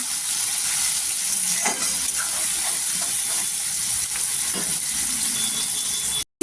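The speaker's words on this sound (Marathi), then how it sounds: "मीठ टाकल्याने तेलावर छान असं परतून घ्यायचं." Onion and tomatoes with salt sauté in hot oil for an Indian eggplant and potato curry, giving a steady close sizzle and hiss with a few stirring scrapes and no talk.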